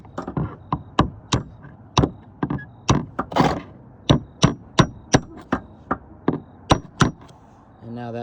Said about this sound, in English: So the way we do that is we use this hammer